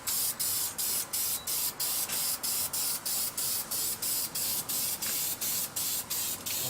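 Spray can laying a light tack coat of paint on XS650 motorcycle engine parts, the cylinder head and rocker box, as a rapid, even series of short close hissing bursts in a steady rhythm with no talk.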